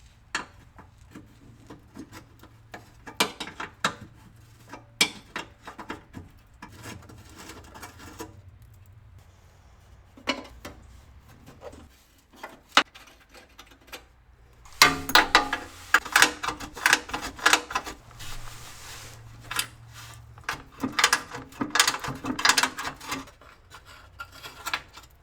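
Ratchet work on the heat shield nuts of a BMW E34 during a fuel tank strap job: quiet intermittent clicking and metallic rasping bursts, growing busier and louder in the second half, with no talking.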